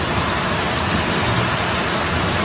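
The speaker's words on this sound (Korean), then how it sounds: "와, 비 한번 쌀벌하게 오네요." Heavy rain pouring during a storm in Cebu, Philippines, a dense, loud, steady roar of water without a break.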